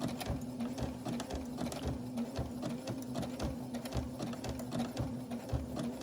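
A sewing machine runs steadily while reinforcing old stitching on worn underwear, a close, continuous rapid mechanical chatter with a constant hum underneath, unbroken throughout.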